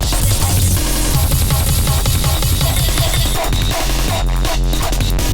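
A saturated, heavily distorted kick drum pounds through a dense, loud breakcore beat, fast punchy hits driving continuously amid busy chopped percussion and layered music.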